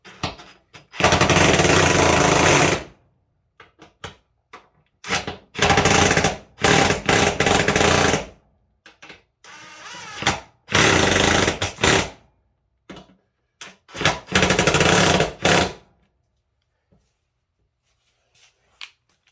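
Air impact gun tightening bolts on a Cub Cadet Z Force S 48 mower deck, several loud rattling bursts of a few seconds each with short quiet gaps between.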